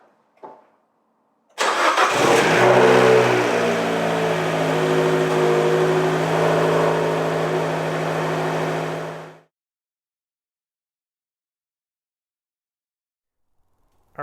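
A car engine cranks and catches after a coolant flush with a vacuum fill tool, then runs loud and steady for about eight seconds before shutting off, with no talk.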